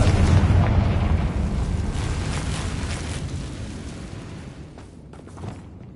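A fire spell explosion in the video game Hogwarts Legacy booms loudly at the start, then rumbles and fades away over several seconds, with no talking.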